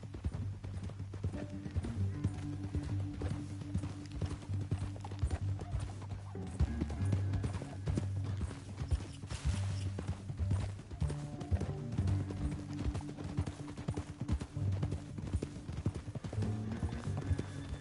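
Rhythmic clip-clop of several horses' hooves trotting steadily over hard ground, continuous and fairly close, with a low hum beneath.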